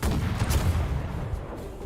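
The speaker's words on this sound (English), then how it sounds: "They have actually cannon sound." A deep, rumbling boom of cannon fire, a loud sustained blast with a low roar that slowly fades out.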